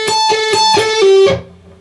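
Electric guitar lick, picked with hammer-ons and a pull-off: a quick run of clear, bright notes, the last one sustained and ringing out alone before fading.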